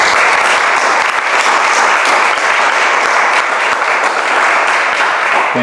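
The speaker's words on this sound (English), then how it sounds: "But please, give a big applause." Big, steady applause from a crowd honoring writers at a literary reading event, dense clapping sustained loudly and evenly from start to finish.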